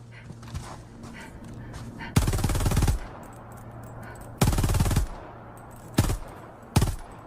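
Weapons fire in the Helldivers 2 Cyberstan update in bursts: two long, loud volleys of rapid automatic fire, then two short sharp bursts, over a low game hum with faint scattered clicks.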